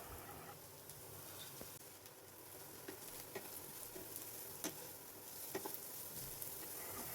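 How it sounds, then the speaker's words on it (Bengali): Chopped onion, garlic, carrot and beans frying lightly in a pan for veg momo filling, heard as a soft, steady sizzle with faint scattered crackles and stirring clicks, quiet and close. "পেঁয়াজ আর রসুনটাকে হালকা করে ভেজে নিচ্ছি।"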